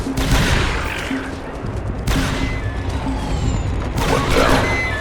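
Blaster gunfire in the Star Wars Republic Commando video game, loud bursts of shots that come in clusters over a rumbling battle bed, with sharp new volleys breaking in twice.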